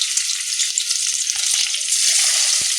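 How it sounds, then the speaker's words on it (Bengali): Chopped onions fry in hot white oil over medium heat, a loud dense sizzle that holds steady throughout, broken by a few faint low knocks, with no voices. "তেলটা গরম হয়ে গেছে, এখন আমি এর মধ্যে দিয়ে দেবো পেঁয়াজ কুচি"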